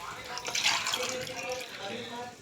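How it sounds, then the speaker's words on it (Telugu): Water poured from a glass into a cooking pot of rice for a lunch-box rice dish, a steady splashing gush that rises and then settles over a couple of seconds, close by. "వాటర్ పోసేస్తున్నానండి"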